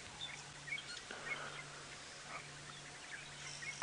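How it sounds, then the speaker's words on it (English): Faint scattered oxpecker and other bird chirps and calls over a quiet outdoor safari background with a low steady hum, several birds calling intermittently at a distance. "we can hear all the oxpeckers to the left of us, and oh, there's a whole tree full of birds"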